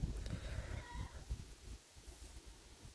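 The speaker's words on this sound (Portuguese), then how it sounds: "a galinha tá ali cantando" Chicken sounds from a backyard garden: a fowl calls out in a brief, moderately loud burst near the start, then fades into quiet outdoor background.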